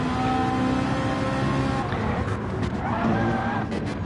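A GT race car in a sim racing game at the Sardegna circuit is thrown hard into a corner, its engine roaring steadily with a scrubbing skid, loud and close, while a commentator talks over it.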